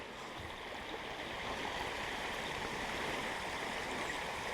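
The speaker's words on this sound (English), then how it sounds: "I'm walking across a bridge that goes across Ellijay Creek." Ellijay Creek runs under a bridge in the snow, a steady broadband rush of flowing water heard continuously and evenly with no voices.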